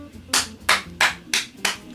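Five sharp hand claps in a steady, evenly spaced rhythm, each one loud and close, with only faint background murmur between them.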